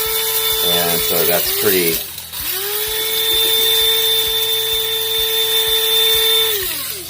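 Trader Joe's Honey Roast Nicaraguan coffee is ground to an espresso fineness for an Aeropress. A loud, close, steady motorized whine rises and settles, with a person talking over the start.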